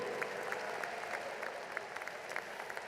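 Audience applause fills a university commencement hall, a steady wash of many hands clapping at a moderate distance, with a few sharper claps standing out.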